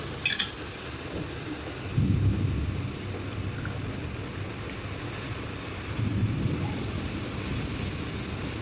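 A thunderstorm with heavy rain during a storm at home gives a constant wash of rainfall, with deep rumbles of thunder swelling twice, moderately loud and with no talk.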